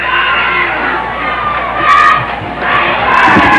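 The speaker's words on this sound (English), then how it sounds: "Cheerleaders trying to generate a little excitement here in the crowd." Crowd at a 1984 high school football game against Elkhorn cheering and shouting, with cheerleaders leading them, a steady mid-distance roar that swells near the end.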